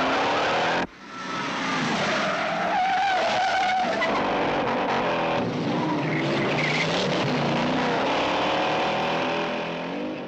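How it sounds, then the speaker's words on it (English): Tires skid and squeal as engines roar during the famous film car chase involving a green 1968 Ford Mustang, a loud, continuous screech running almost the whole time after a brief opening gap. "Pretty much the greatest cinematic car chase in history was in that film."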